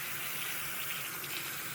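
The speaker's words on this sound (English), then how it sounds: "So you just fill it up with some nice cool water." Cool tap water pours steadily into a basin being filled to rinse freshly dyed yarn, a soft, even gush with no break.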